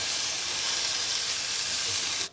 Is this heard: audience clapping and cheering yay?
no